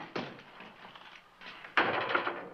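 An old-fashioned door opening in a frontier town setting, with two distinct bumps of wood and latch noise, the second louder and closer, against a quiet room.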